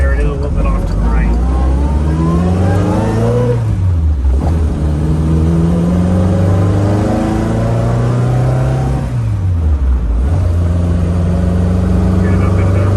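Engine of a 1968 Triumph Spitfire pulling up through the gears on the road, loud and close, its drone climbing in pitch, then dropping at each shift before rising again.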